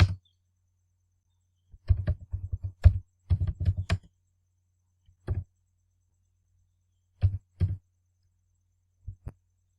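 Typing on a computer keyboard in quiet surroundings, with short bursts of close key clicks separated by pauses and a few isolated single taps.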